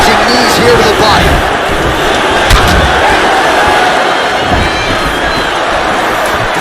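A fight crowd at a mixed martial arts event screams and cheers in a loud, dense, continuous roar, swelling with excited shouts and cries throughout the arena.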